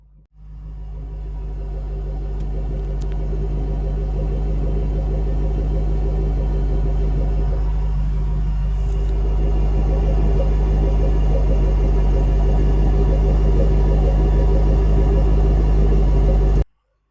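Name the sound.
2008 Ford Mustang Shelby GT500 dual exhaust idling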